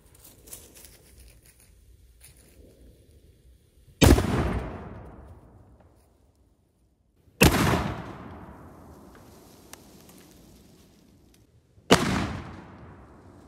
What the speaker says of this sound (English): for our next shot, we got a 10-ounce cannonball loaded up